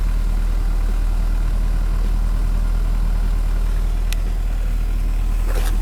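A warmed-up 1982 Mercedes-Benz W123 230E with a four-cylinder engine idles close by in a steady, even low drone, with a brief sharp click near the end.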